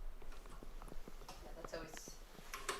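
A show jumping horse's hooves clop in an irregular rhythm during a 1.50m class round at a CSI3* event, moderately clear beneath steady commentary voices.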